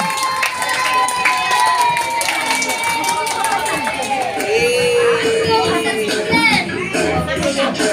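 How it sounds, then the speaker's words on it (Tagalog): Lively crowd at a child's first birthday party with a Jollibee mascot, cheering and shouting continuously over a loud, dense mix of voices and music; scattered clapping is hard to pick out beneath the chatter. "Palakpakan naman po natin."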